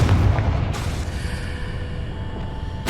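Confringo, the blasting spell in the Hogwarts Legacy video game, goes off as a loud booming explosion with a sharp crack. A lingering rumbling tail follows, heard alone without talk.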